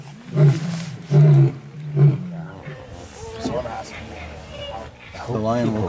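A lion roars in the wild in the Kalahari, three loud deep rhythmic bursts at the start, then fainter rumbling while people talk over it.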